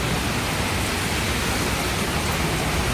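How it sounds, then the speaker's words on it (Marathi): Rain begins falling outdoors during a Ganesh immersion procession on foot toward Lalbaug, a steady, dense wash of broadband hiss that continues evenly throughout with no voices. "आता पाऊस बघा येतोय बघा"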